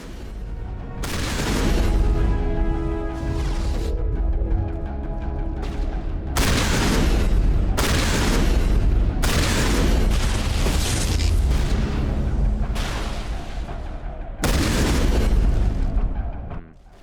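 Heavy, booming shotgun blasts in the Mass Effect video game, several loud discharges arriving one after another, each with a long ringing tail that blends into a continuous roar.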